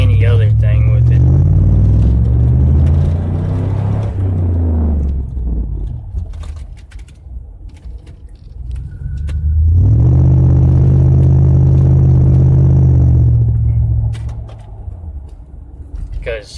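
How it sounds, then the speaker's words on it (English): An auction car is driven on a test run, its engine rising and falling in two long, loud surges of revving with a quieter stretch between them. "So we're just going to drive it, and we're going to watch the gauges as we're driving"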